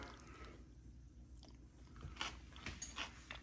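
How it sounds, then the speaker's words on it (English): Quiet background, then a few close, crisp crunching bites and chewing sounds near the end. "Oh, I hear the crunch."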